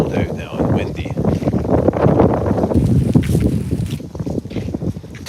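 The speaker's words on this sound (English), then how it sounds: "it's getting cold out now and windy" Cold outdoor wind gusts and buffets the microphone in a continuous, rushing roar that rises and falls in strength.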